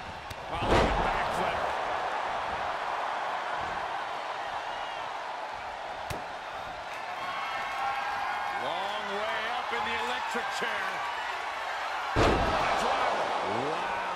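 A steel chair shot in the WWE 2K23 wrestling game, with sharp impact slams standing out near the start, around the middle and toward the end over crowd noise and a commentator's voice.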